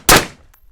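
A suppressed Steyr AUG A3 rifle fires one semi-automatic shot: a sharp, loud, close crack that decays over about a quarter second into near silence.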